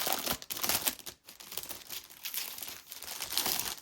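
A large pack of coffee-dyed paper crinkles and rustles as it is handled during an unboxing, giving close, irregular crackling bursts with a brief pause partway through.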